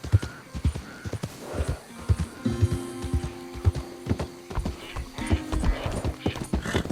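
A horse's hooves clip-clop at a steady walking pace in the video game Red Dead Redemption 2, close and fairly quiet, with soft ambient wilderness sound and occasional faint tonal game music behind.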